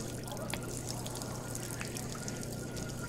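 Running tap water while washing hands in the Job Simulator game, a steady close pouring splash with faint trickling, continuous and even throughout.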